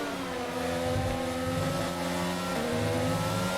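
A Formula 1 car's engine roars at steady high revs in the F1 22 video game at the Canadian Grand Prix, with a sustained whine that shifts pitch slightly as a faster rival car passes close by.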